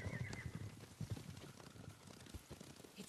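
Horses approach in the video game Ghost of Tsushima: a fairly faint clip-clop of hooves, with a light patter of rain and no talking.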